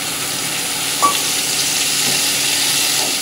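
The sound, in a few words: rohu fish stir-frying with coriander and green chili paste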